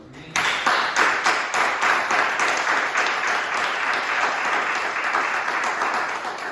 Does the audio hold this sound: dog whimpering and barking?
no